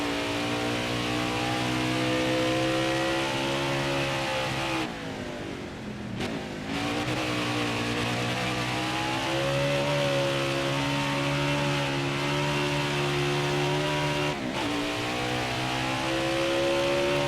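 A race car engine in NASCAR Heat 5 drones steadily and loud, holding high revs with brief dips during shifts or braking before climbing again, with no talk over it.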